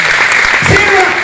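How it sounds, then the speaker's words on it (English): Audience at a hypnotist show applauds for a volunteer named Charles, a dense, steady wash of clapping throughout, with a voice briefly audible underneath. "Give Charles a big round of applause"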